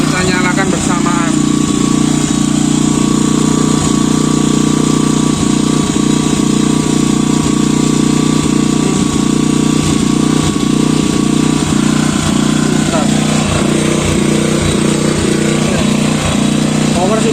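Krisbow Silent 2000 W generator engine running at a steady close drone throughout, with people talking over it and intermittent clicks and knocks.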